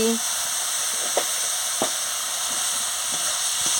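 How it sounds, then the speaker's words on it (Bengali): Chikni greens and moong dal seasoned with chili powder and salt are stirred in a hot pan, a steady sizzle with a few soft scraping strokes of the spoon. "দিয়ে ভালো করে নাড়িয়ে নিচ্ছি।"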